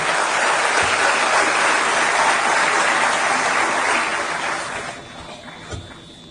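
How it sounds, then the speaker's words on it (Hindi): Loud, dense applause from a large audience at a ceremony with Uttar Pradesh police personnel present, a steady roar of clapping that fades gradually toward the end. "जोरदार तालियों के प्रणाम निवेदित करते हुए"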